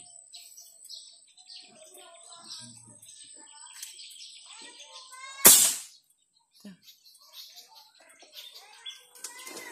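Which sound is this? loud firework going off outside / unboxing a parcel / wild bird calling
wild bird calling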